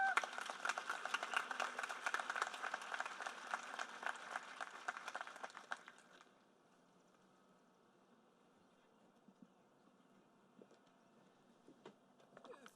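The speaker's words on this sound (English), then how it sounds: "How about another round of applause for Jillian, please?" Applause from the audience at a 2021 eSTEM graduation ceremony, a steady crowd of clapping for about six seconds before it cuts off, leaving a quiet room with a few faint stray sounds.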